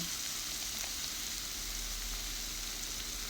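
Beef liver sizzles and fries steadily in a pan as soy sauce goes in, a continuous hissing crackle at moderate level with no talking.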